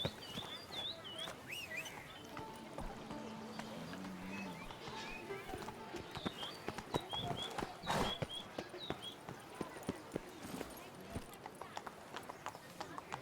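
Roach, the horse in The Witcher 3: Blood & Wine, clip-clops along at a steady walk, close and fairly quiet, its hoofbeats running under in-game voices and ambient bird calls.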